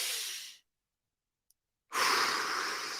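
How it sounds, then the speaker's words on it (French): Two deep breaths during a breathing exercise, a long exhale that fades into silence and then a strong, close inhale drawn in after a pause. "à prendre 3 grandes respirations"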